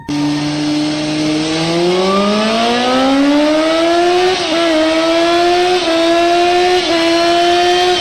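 A vehicle revs and drives off with a steadily rising engine whine and brief gear-shift dips, loud and close with no talk, set as a sound effect in an Indonesian horror story.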